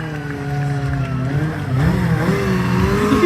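A 1000cc superbike of roughly 200 horsepower revs steadily while drifting at low speed, its engine note sustained and loud with rising harmonics, and a crowd murmurs faintly in the background.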